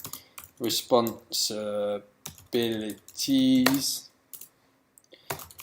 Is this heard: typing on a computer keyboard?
yes